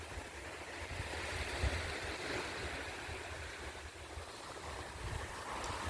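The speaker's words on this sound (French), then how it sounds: "une petite pause repos, hein, sur les belles plages de Normandie. Omaha Beach, toujours." Waves wash onto Omaha Beach in Normandy, a soft, continuous surf rumble mixed with wind noise, steady and fairly faint throughout with no voices.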